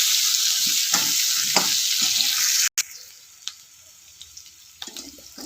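Potatoes and onions fry in a pan, starting with a loud dense hiss that stops abruptly and then drops to a quieter sizzle with occasional scrapes and knocks of stirring, and no voices.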